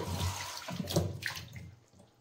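A small splash of water poured into a pan of chicken cooking with ginger and garlic, heard as a brief soft watery rush and sizzle at low volume that fades out.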